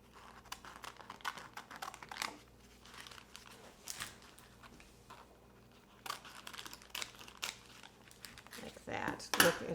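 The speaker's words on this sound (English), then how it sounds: "what I like to do to serve it is to just cut it from the top and kind of an X and open it up" A salmon cooking packet is cut open in an X from the top and unwrapped, giving scattered crinkling, crunching and tearing sounds in short bursts, fairly close and quiet, louder toward the end.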